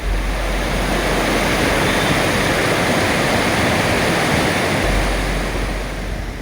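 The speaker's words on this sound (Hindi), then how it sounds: "एक तरफ करलो करती नदी और दूसरी तरफ चट्टानों से गिरती पानी" Rajrappa Falls, with water pouring off rocks beside the river, gives a loud, steady roar of rushing water that stays even from start to finish.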